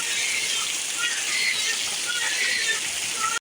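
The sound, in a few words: heavy rain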